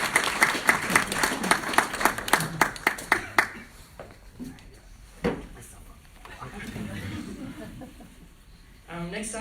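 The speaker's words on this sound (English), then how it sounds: "Please give a round of applause" Audience claps in a burst of distinct, fairly close hand claps that thin out after a few seconds at a talk event on mental health in the workplace, followed by quieter room murmur and voices.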